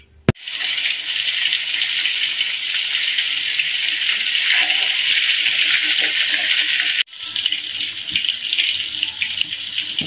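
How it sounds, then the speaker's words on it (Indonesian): Rohu fish frying in hot oil, a loud steady hiss and sizzle filling the whole stretch, briefly cut off near the end before resuming, close up with no talk. "Okey, jom kita goreng."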